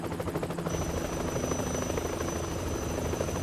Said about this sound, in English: Is that gonna be a twist that the helicopter catches them?